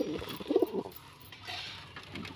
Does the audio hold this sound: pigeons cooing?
yes